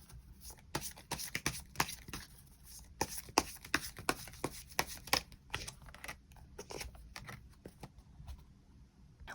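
Tarot cards being shuffled and drawn, a run of crisp riffling snaps and soft slides in an irregular rhythm, close and moderately quiet, with no talking.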